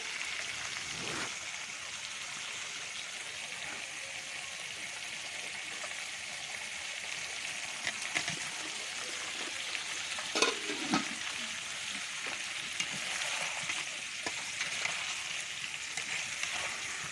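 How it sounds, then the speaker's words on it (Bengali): Potato and chicken pieces sautéed with spices in a pan, a steady close sizzle with scattered stirring scrapes and clinks running throughout, no voices. "আলুটা দিয়ে আমি আবারও একটু কষিয়ে নেব, মশলাগুলো যেন আলুর মধ্যেও ঢুকে যায়"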